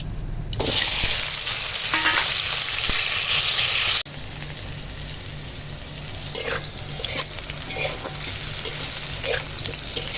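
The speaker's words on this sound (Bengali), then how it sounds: "এখন ভেন্ডি আলু লবণ হলুদ মাখিয়ে নিচ্ছি এরকম ভেজে নেবো" Okra and potato pieces coated with salt and turmeric dropped into hot oil, a loud burst of close sizzling that settles into a steady, slightly quieter frying hiss with stirring.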